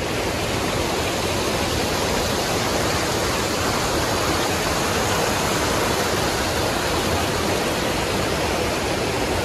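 A mountain stream or waterfall on a hike rushes in a loud, steady, unbroken roar that fills the whole scene, with no voices.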